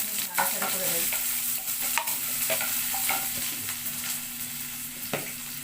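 Chopped onions fry in hot oil for a vegetable curry, a steady close sizzle broken by repeated scraping strokes of a stirring spoon, with no voices.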